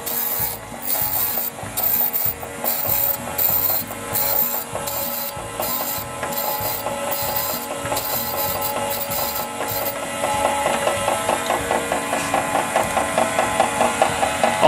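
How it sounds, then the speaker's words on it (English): A valve face grinding machine grinds the valve faces from a Briggs V-Twin Intek engine, a loud, steady, continuous rasping whir that holds throughout and grows slightly harsher and more pulsing near the end. "Here's my valve face grinding machine. I'm going to grind the faces on here."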